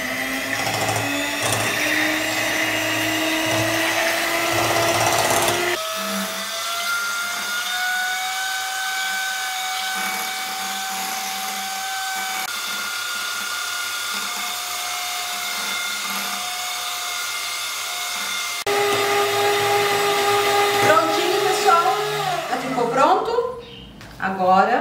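An electric mixer beats a peach and chocolate dessert mixture, giving a steady, close, whirring motor whine that holds for about twenty seconds and briefly changes pitch near the end.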